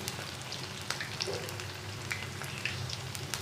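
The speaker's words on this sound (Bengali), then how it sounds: "সবগুলো ভেজে নেব এখন একটি ঢাকনা দিয়ে" Taro fritters sizzle steadily in a covered pan, a faint, even crackle of frying oil with small pops throughout.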